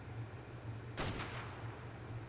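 A single gunshot fired at an egg in the video game Ark: Scorched Earth, one sharp burst standing out over a low steady in-game hum, fairly faint overall.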